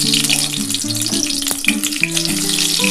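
A spoonful of fennel seeds sizzling in hot oil in a wok for a dhaba-style chicken curry, a loud close crackle with clinks and scraping of a utensil, no voices.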